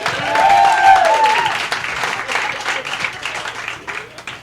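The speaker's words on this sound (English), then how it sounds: "Let's have a big round of applause here, guys." Comedy club audience at the Comedy Cellar applauding as a comedian takes the stage, a loud burst of clapping and cheering that swells early, then gradually thins and fades, with a host's voice over it.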